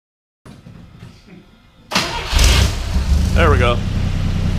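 A 1964 Jeep CJ5 M38A1 engine cranks and catches, then settles into a steady loud idle close by, while someone speaks briefly over it.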